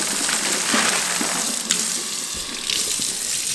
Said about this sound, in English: Turn the water on and